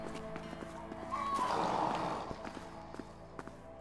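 Horse in the video game A Way Out, a single drawn-out whinny rising and fading in the middle, with scattered clip-clop hoof taps and shuffling around it over a soft game music bed.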